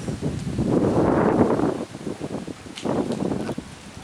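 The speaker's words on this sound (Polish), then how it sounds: "Wiatr się zerwał" Gusty wind at an abandoned tourist resort in the Philippines buffets the microphone in two strong rumbling bursts, with a brief lull between them.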